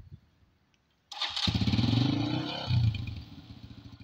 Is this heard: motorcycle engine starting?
yes